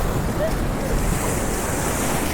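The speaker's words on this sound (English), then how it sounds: "these waves are coming in nice" Ocean surf rolls in steadily with a constant wash of breaking waves, mixed with gusty wind noise buffeting the microphone.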